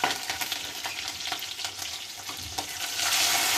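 Green chilies and bay leaves hit hot oil for a tempering, crackling and sizzling loudly and close, with stirring scrapes throughout and the fizz swelling toward the end.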